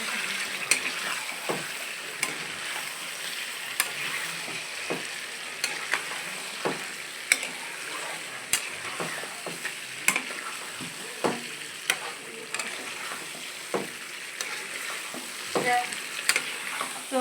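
Curry being sautéed and stirred in a pan: a continuous close sizzle with repeated scraping strokes of a spoon against the pan at an irregular rhythm, and no talking.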